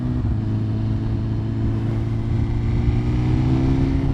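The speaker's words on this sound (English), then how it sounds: "That exhaust is sounding amazing" A 2025 superbike, either a Ducati Panigale V4 or a BMW S1000RR, rides down a street in road mode. Its exhaust gives a loud, steady engine drone with a low hum that carries through the whole stretch, and no voices are heard.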